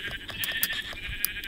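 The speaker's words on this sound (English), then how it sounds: "Sheep! Yes, yeah, so many sheep!" Sheep bleating in Minecraft survival mode: a few short, nasal bleats close by, layered over a steady hum of game background sound.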